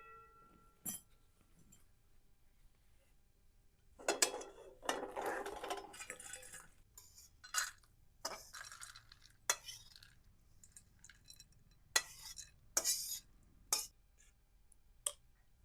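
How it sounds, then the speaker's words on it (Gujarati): Cashews and almonds roast in ghee as a spoon stirs and scrapes them around a metal pan, giving irregular clinks and taps with quieter pauses between. "કાજુ અને બદામ આપણે ઘીમાં શેકવાના છે તો શેકી લેવી"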